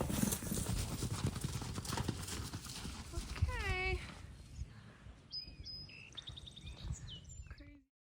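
Mustangs and a thoroughbred running across a grassy field, hooves clip-clopping in a rapid rumbling patter up close, with a whinny rising briefly, birds chirping later, and someone talking over it.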